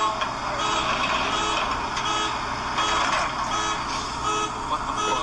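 A tow truck reversing as it pulls a crashed 5.0 Mustang out of a house, with a repeated backup beep ringing over a steady diesel engine drone, moderately close and without talk.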